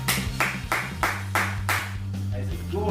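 One person claps loudly and evenly, about eight sharp hand claps in a steady rhythm over a low background hum.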